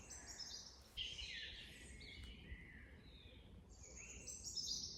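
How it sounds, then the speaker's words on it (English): Faint evening birdsong at a UK allotment in early June: distant, soft chirps and trills come and go over a quiet background. "That evening bird song."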